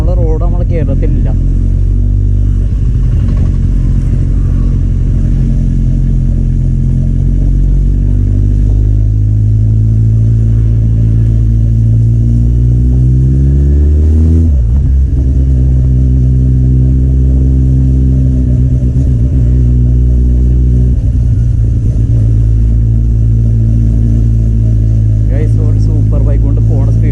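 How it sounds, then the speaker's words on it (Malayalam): A Kawasaki Z800 motorcycle fitted with an aftermarket exhaust revs close by, its deep, loud engine note holding steady and rising in repeated throttle blips, with one sharp rev sweep midway. "ചുമ്മാ ഇങ്ങനെ റേസ് ചെയ്യുമ്പോൾ സൗണ്ട് ഇങ്ങനെ വരുന്നുണ്ട്."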